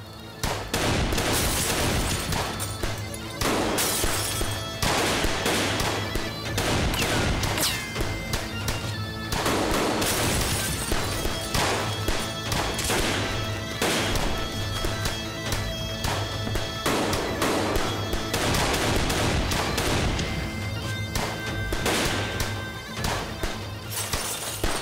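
A drama shootout with sustained heavy gunfire: dense, loud volleys of rapid shots and cracks go on continuously for about twenty-five seconds with no voices heard.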